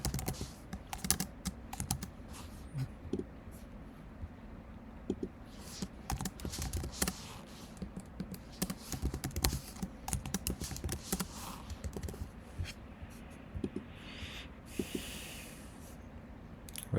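Computer keyboard typing Python code, with irregular quick bursts of close, crisp key clicks and pauses between, plus faint breathing in the background.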